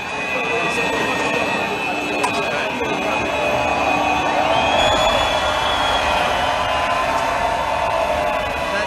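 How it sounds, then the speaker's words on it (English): Crowd cheering trackside at the Spanish Grand Prix, a steady broad roar with engine-like hum running through the whole stretch, loud and continuous with no clear breaks. "Crowd is really cheering for you there."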